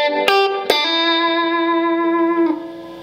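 An E pentatonic lick on electric guitar with distortion and chorus effects: two quick picked attacks lead into a long, loud sustained note that ends in a short slide before fading.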